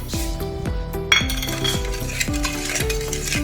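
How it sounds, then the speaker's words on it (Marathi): Spoon stirring sugar into milk to dissolve it, producing repeated ringing clinks against a metal vessel in a steady rhythm, close and clear, with no one speaking. "या दुधामध्ये ही अशी चांगली विरघळून घ्यायची"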